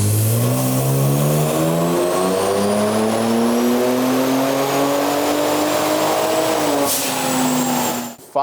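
A Kia Stinger engine on a dyno in 5th gear revs steadily upward at high volume for several seconds, a sustained rising roar, then drops off abruptly at the end.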